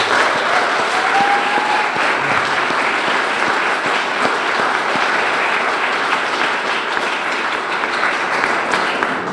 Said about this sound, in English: Let's give everyone another great round of applause.